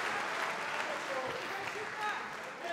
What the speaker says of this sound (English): the crowd getting behind their man once again